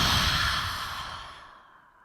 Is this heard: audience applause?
no